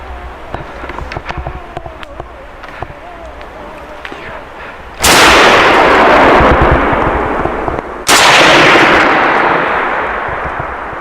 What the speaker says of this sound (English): he even fires 2 shots into the darkness